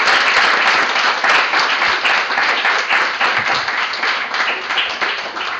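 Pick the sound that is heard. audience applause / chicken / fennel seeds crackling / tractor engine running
audience applause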